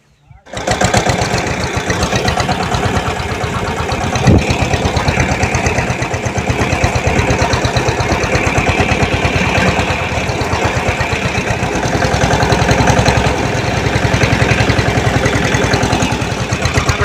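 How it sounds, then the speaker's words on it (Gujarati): A tractor engine runs continuously as the tractor is driven out of a rain-filled pit, a loud, steady, buzzing drone that starts abruptly after a brief pause and stays close and even to the end. "મિત્રો ટ્રેક્ટર કાઢવાનું છે"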